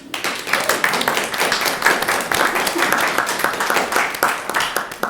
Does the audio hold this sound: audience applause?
yes